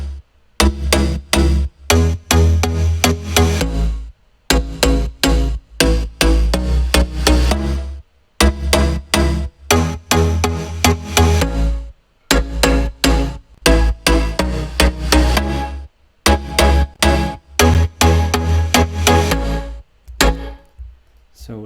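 An electronic track builds on a deep, heavy sub bass layer that pumps under punchy rhythmic chords, the loud pattern cutting out in short gaps every few seconds across the whole stretch.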